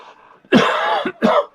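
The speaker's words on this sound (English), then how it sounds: "that's why I coughed, because I laughed" A single person coughs close to the microphone, with a short burst followed by a second cough after a brief pause, with no talk over it.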